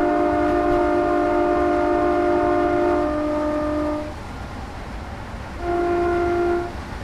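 Two-tone train horn in the video game Train Simulator 2017, sounding two chord blasts: a long, loud held note that drops away, a short pause, then a shorter second blast over the rumble of the train.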